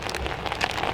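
Rain falls steadily on an outdoor surface, a dense, even patter of drops close by with no voices, as if at a rainy bushcraft campsite.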